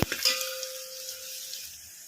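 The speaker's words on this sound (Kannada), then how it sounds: "ಈಗ ಇದಕ್ಕೆ ಬೆಳ್ಳುಳ್ಳಿ ಹಾಕೋಣ ಈ ಒಗ್ಗರಣೆಗೆ ಮೀಡಿಯಮ್ ಫ್ಲೇಮಲ್ಲೇ ಫ್ರೈ ಮಾಡ್ಕೋಬೇಕು" Garlic frying on medium flame in tempering oil already crackling with mustard seeds and cumin, for Andhra-style raw mango dal; a faint steady sizzle with a brief clink near the start, no talking.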